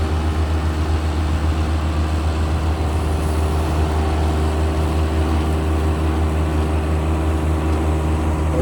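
A tractor's heavy diesel engine rumbles steadily nearby, a low constant drone that neither fades nor builds, with no voices heard.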